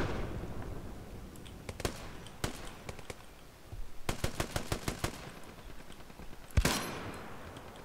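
Hell Let Loose combat on Omaha Beach: scattered single gunshots and a rapid burst of automatic fire over distant battle noise, capped by one loud, close rifle shot near the end.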